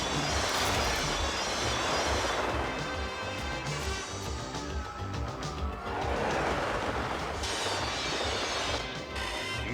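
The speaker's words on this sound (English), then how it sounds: "Disconnected the passenger cars. And they're slowing to a stop." A train rumbles and grinds heavily, with metallic squeals and clanks as it slows down, loud and continuous.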